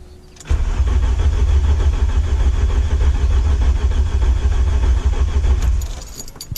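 A VW Golf 2 GTI 16V engine cranks steadily on its starter motor, loud and close, a continuous churning drone for about five seconds before it stops, with no voices over it.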